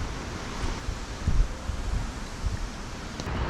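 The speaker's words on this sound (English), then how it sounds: "There's something nice about listening to the wind." Wind blows outdoors at a motocamping site, a steady rushing roar with gusty swells and rumbling buffets against the microphone, with no talking.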